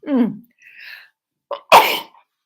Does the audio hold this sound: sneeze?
yes